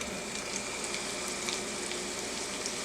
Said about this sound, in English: once you see the onion sizzling in there, then that means that your oil is hot enough